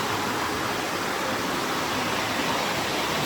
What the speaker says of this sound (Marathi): धबधबा आहे आता खाली या